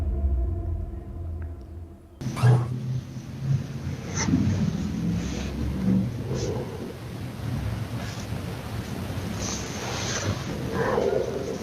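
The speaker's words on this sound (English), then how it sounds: "The dog's growling a bit" Low, rumbling growl from a dog captured on a phone recording, rough and sustained in uneven swells over a noisy background.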